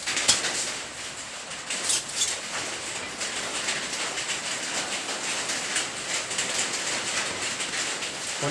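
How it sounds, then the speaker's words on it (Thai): Steady heavy rain roars throughout, a dense broadband hiss with a few brief louder bursts, no voices. "ขออนุญาตปิดกล้องกันเสียงฝนดัง"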